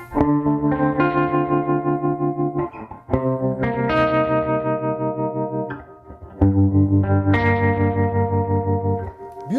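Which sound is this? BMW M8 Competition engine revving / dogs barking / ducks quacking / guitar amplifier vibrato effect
guitar amplifier vibrato effect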